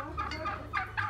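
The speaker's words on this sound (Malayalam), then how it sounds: "കറുത്ത കോഴിയും കണ്ടോ?" Clucking calls from a black chicken (karinkozhi) on a farm visit, several short rising bursts close by over steady low background hum.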